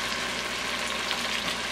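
Ham sizzles and fries in a pot as it browns and caramelizes, a steady close crackling hiss with no pauses.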